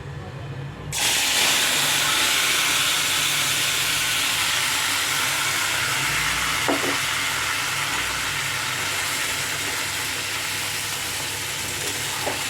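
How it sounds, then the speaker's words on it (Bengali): Fish is dropped into hot oil in a wok. A loud burst of sizzling erupts at once and holds as a steady, dense crackle with a faint clink partway through. "মাছটাকে আমি ভালো করে নেড়ে চেড়ে এখন কড়াতে দিয়ে দেব। আমার তেলটা গরম হয়ে গেছে, তো এবারে আমি দিয়ে দিচ্ছি।"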